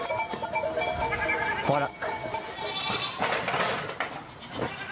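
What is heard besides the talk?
goats bleating in a mountain herd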